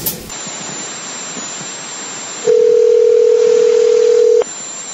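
Telephone line for a prank call on a radio show: a loud steady dial tone, then a single sustained tone held for about two seconds before cutting off, with no talk.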